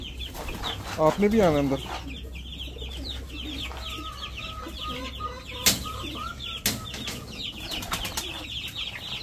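Backyard chickens and chicks cluck and squawk close by, with bursts of flapping wings and sharp calls breaking in. A person talks briefly among the birds.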